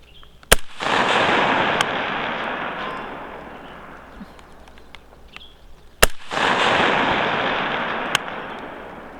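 Rifle fired with a Vortex Strike Eagle 1-8x24 scope at a reduced-size target 550 yards away: two sharp, loud shots several seconds apart, each followed by a long rolling echo that fades slowly outdoors.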